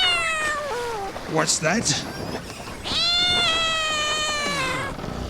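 A cat meows in long drawn-out wails, several calls with a pause between them, loud and close, while a person briefly speaks in the middle, in a foggy seafaring scene with a cat acting as lookout.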